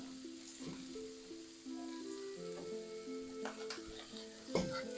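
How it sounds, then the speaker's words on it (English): Thinly sliced unmarinated beef sears in a wok alongside vegetables, a quiet continuous sizzle under light clinks and tonal kitchen sounds, with a sharper knock near the end. "And this is thinly sliced beef, but I haven't marinated it. You can let that sear on one side."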